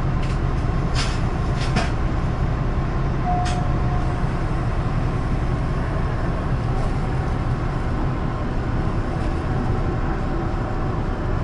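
Steady low rumble of the Hokuto limited express train idling at Sapporo station, Hokkaido, with a few faint clicks and clanks over continuous mechanical hum.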